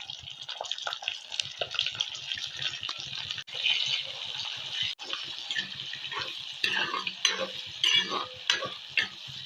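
Panch phoron spices, ginger-garlic paste and dry chilli fry in a hot pan with a dense crackling sizzle, broken by stirring scrapes and a couple of sharp clicks, with no talk.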